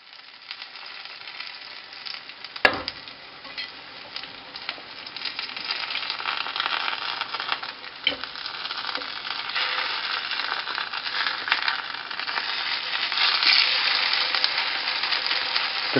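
A vegetarian pumpkin and sweet potato schnitzel sizzles steadily in a hot frying pan, a dense crackling hiss that grows slightly louder over time, with a sharp clunk near the start and no voices.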